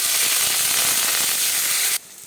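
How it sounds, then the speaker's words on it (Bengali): Loud, steady sizzling of green chilies and onion hitting hot mustard oil, a dense crackling hiss that cuts off abruptly near the end. "তেল গরম হয়ে গেছে দিয়ে দিলাম কাঁচা লঙ্কা পেঁয়াজ"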